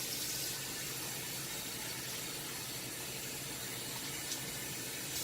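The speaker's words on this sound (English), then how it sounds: "you want to fill up your bowl with warm water, so I'll wait for the water to get warm" A tap runs warm water into a bowl, giving a steady, close, broadband rushing hiss that carries on unbroken with no talk.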